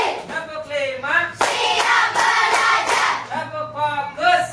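Group doing the tepuk clapping game, a series of sharp hand claps in counted rhythm, mixed with voices chanting along, close and fairly loud.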